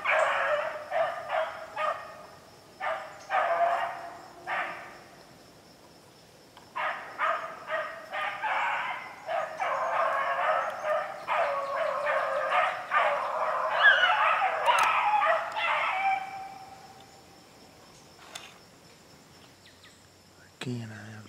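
A dog running in a kennel lets out bursts of yipping, whining barks in uneven clusters, fairly close but thin, with pauses between volleys and a quiet stretch at the end.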